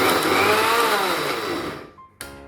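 A food processor whirs loudly in one quick pulse, chopping cauliflower into cauliflower rice, its motor winding down and stopping before a brief clatter of the bowl.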